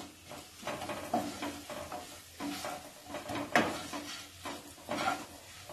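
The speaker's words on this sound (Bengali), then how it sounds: "এইবার এই বাকি মশলাগুলো হলুদ এগুলো তেলের মধ্যে দেব কালারটা আসার জন্য" Ground turmeric and Kashmiri chilli powder frying in oil in a pan for Bengali fish kalia, a steady close sizzle broken by repeated stirring scrapes and a few pan knocks, with no voices.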